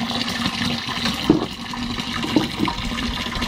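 Water sloshing and pouring while a home aquarium is cleaned, a continuous splashing rush with a few sharper splashes, close and fairly loud.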